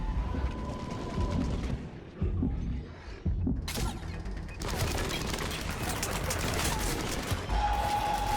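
Grenade blasts and rapid gunfire crackle through a Mass Effect 3 firefight, dense and continuous with sharp bursts, loud and close, with a brief lull before the barrage resumes.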